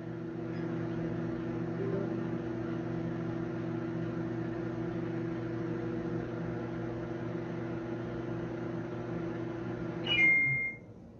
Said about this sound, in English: add 10 seconds to the microwave.